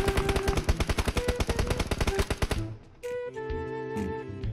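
Rapid automatic gunfire in PUBG Mobile, a fast, evenly spaced string of loud shots lasting over two seconds, then sparse tonal game sounds and a low hum after the burst stops.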